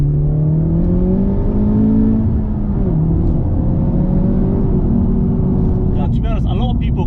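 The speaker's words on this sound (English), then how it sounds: "The drone on the exhaust is not that bad." Low, steady exhaust drone from a Honda Civic Type-R FK8 cruising at around 30 mph, a continuous humming tone that rises and falls gently with engine speed under ongoing conversation.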